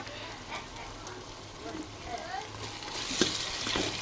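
Curd and chopped tomatoes stirred and frying in a pan for egg layer dum biryani, a steady soft sizzle with intermittent scraping stir strokes, close and moderately loud, with no speech over it.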